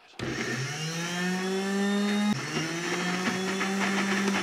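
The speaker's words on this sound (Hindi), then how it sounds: "जब सब्ज़ मिर्चों का आपने पेस्ट बनाना है, आपने मशीन को रोक रोक के चलाना है" Electric grinder switched on to grind green chilies into a paste, a sudden start into a loud steady motor whine, with a brief dip midway before it keeps running.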